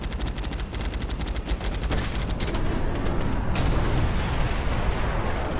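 Dense, continuous gunfire and explosions from the sci-fi shooter video game Moon Breakers, rapid bursts and booms layered loudly throughout with no pause.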